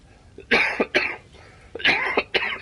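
A person has a short coughing fit into a microphone, two clusters of harsh, close coughs separated by a brief pause, with no talking over them.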